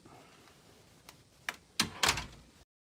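A few faint knocks, then several louder thunks and a rattling clatter, like a door being handled and shut as someone walks out of a room during containment testing, followed by abrupt silence.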